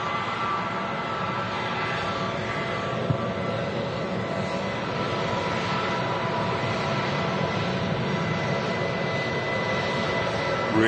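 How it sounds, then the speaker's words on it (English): Lufthansa Airbus A320neo with Pratt & Whitney engines at Manchester Airport, a steady, loud broadband jet roar with faint tonal whine held throughout, constant and close with no voices. "I think it's the Lufthansa. Pratt & Whitney Central, this. Lufthansa A320 Neo."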